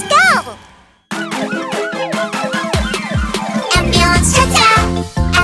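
A cartoon ambulance siren from the Pororo children's show wails in rising and falling sweeps amid a bouncy, busy song, loud and close, with cheerful voices and music over it.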